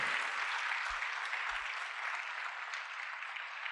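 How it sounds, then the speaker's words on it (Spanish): A church congregation applauds at a worship service, a dense, steady wash of many hands clapping that fills the room and holds at an even level throughout, with no voices standing out. "Denle un aplauso al Señor."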